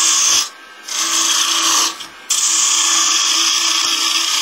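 A 1/4 inch gouge cuts a small wooden vase on a lathe, giving a loud, steady high hiss of tool on spinning wood that breaks off twice briefly before resuming.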